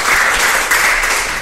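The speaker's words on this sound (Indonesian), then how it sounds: "Kita kasih tepuk tangan yuk buat Gary." A class of students applauds after a classmate's testimony, a short dense burst of clapping from a group, loud and even, with no speech over it.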